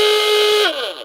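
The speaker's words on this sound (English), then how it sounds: "the industrial hooter for stage 1" E2S Hootronic electronic sounder playing its industrial hooter tone, a loud steady buzzing drone that holds for about half a second before sliding down in pitch and fading.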